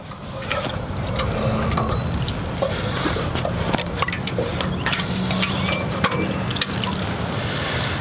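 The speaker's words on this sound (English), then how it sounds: "let me get my watering can" A watering can pours over a raised garden bed of freshly sown peas, giving a steady trickling splash with scattered drips and light clunks and no talking.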